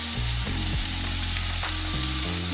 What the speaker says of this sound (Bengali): এবার আমি আলুটা ভাজা বসিয়ে দিয়েছি আলুটা একটু হালকা ভাজা ভাজা হবে